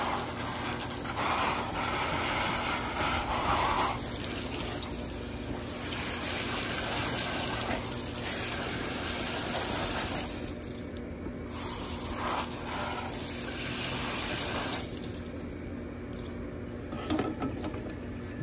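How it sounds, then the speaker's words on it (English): Garden hose spraying water over a robotic pool cleaner full of debris, a continuous hiss of spray that drops out briefly twice as the stream is shifted, close and steady. "Hose this off just like that."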